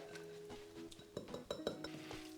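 Courgette filling being stirred with grated cheddar using a wooden spatula in a bowl, giving soft scraping and clinking knocks in an irregular rhythm, close and fairly quiet.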